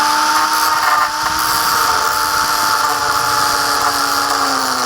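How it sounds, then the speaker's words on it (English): An angle grinder whines loudly and continuously while grinding screw heads off a faux wood beam, a steady high-pitched tone with a slight dip in pitch partway through. "use this angle grinder and you can grind them"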